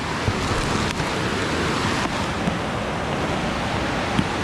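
Strong river current in heavy rain during a crossing, a constant dense rushing roar of water with wind buffeting the microphone, steady and close, with no talking.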